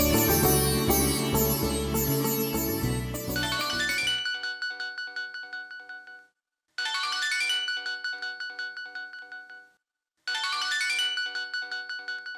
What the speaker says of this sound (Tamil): அண்ணன் ஃபோன் பண்றாரு.